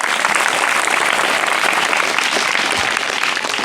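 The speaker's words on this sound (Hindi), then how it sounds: "थोड़ा ताली दो यार।" A school audience at a humorous poetry recital in a high school hall in Gaya bursts into loud, close, sustained clapping, a thick unbroken patter of many hands lasting several seconds.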